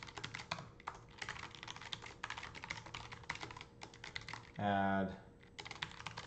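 Rapid clicking on a computer keyboard in dense bursts with short pauses, close and steady, with a short spoken word and a brief tonal sound near the end.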